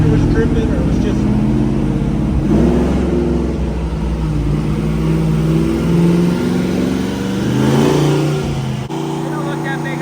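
A homemade rock crawler engine idles and revs gently under very light throttle, a steady low rumble with mild swells that stays loud and close, while a voice talks over it.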